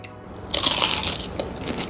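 Crunchy bites into deep-fried food coated in a starch-slurry batter, with a sudden burst of crisp crackling chews close to the mouth after a quiet start, continuing in uneven bursts.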